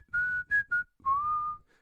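A person whistles a short melodic motif from the score of Is This Seat Taken: three brief clear notes followed by one longer gliding note, close, clean and alone.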